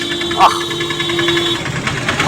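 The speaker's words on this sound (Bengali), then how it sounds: "তার সঙ্গে বাইক রাইড" A motorbike engine hums steadily during a countryside ride under changeable weather near Dhanbad, a low continuous drone with a faint mechanical whine and wind noise throughout.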